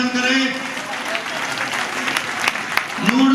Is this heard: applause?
yes